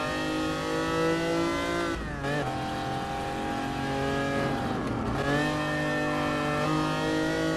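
Lancia Stratos engine in GT Sport, a loud steady rev with rising and falling harmonic pitch and two brief dips like gear shifts, close and continuous throughout.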